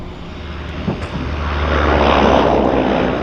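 A de Havilland Otter floatplane lands at Vancouver's downtown harbour airport, its propeller engine droning steadily and swelling louder over a few seconds, with no talking over it.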